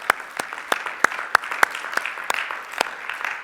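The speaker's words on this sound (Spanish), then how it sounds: "Dale otro fuerte aplauso al Señor" A church congregation applauds the Lord at the close of a service, with sparse, evenly spaced claps standing out sharply over a softer background of many hands.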